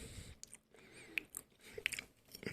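Someone chewing cooked onions seasoned with garlic and paprika, soft wet crunches and bites coming in an irregular rhythm, close but faint, with no talking.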